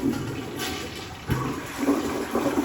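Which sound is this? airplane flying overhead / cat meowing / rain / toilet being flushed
toilet being flushed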